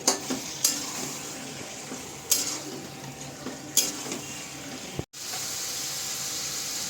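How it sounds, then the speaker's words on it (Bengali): Chicken stir-fries with ground spice paste in a pan, giving a low sizzle broken by several sharp scrapes and clacks of a spatula, then a brief cut before the sizzle resumes. "চিকেনগুলোকে ভালো করে আমি মশলার সাথে কষিয়ে নেব।"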